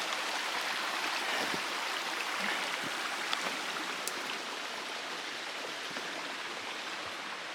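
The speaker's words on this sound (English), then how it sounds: "All these little gullies are flowing well." Small gullies of water run along a hiking trail on the Continental Divide, giving a steady, even rushing and trickling wash that fills the whole clip without pause, with no voices.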